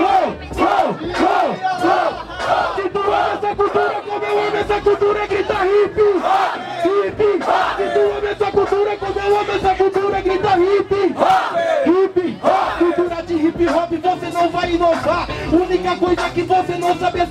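Hip hop rap battle crowd at a Brazilian BDA Hip Hop Tour 2019 event in Presidente Prudente, loudly shouting and chanting in rhythmic bursts, a dense, continuous roar of many voices close up.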